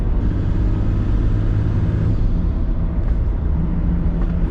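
Toyota Landcruiser with a 1HZ diesel and big high-mount turbo pulling steadily up a hill in fifth gear at low revs, giving a constant loud low rumble and drone with faint whir, no voices.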